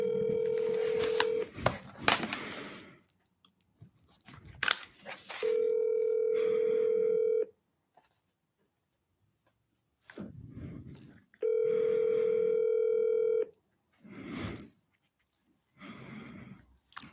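Phone call being placed: a pair of steady dial tone bursts alternate with rapid DTMF keypad beeps, with speech between them, all clear and close.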